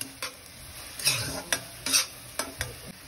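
Turmeric roasting in a pan for chicken keema, heard as a low sizzle under a handful of spaced spoon scrapes and taps against the pan, close and moderate.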